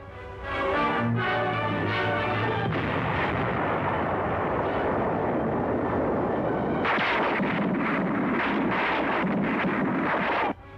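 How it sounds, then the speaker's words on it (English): A heavy dynamite charge blasts during a World War II battle on Okinawa, heard as a loud, sustained rumbling roar that fills the whole clip, with a further surge of crackling debris and bursts partway through. "Cautiously advancing on the firmly dug-in enemy, Yanks plant a heavy charge of dynamite."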